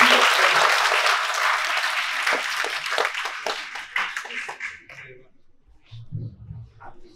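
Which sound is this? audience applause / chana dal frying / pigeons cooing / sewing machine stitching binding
audience applause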